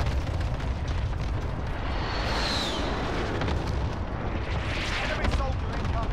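Heavy booming artillery strike explosions rumble continuously in the Warzone video game's Zombie Royale mode, a dense roar of blasts with whistling incoming shells layered over it.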